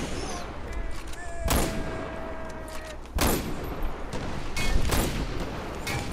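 Gunfire in the video game Far Cry 4, three or four sharp loud shots spaced a second or more apart over a steady noisy background, with a faint voice briefly underneath.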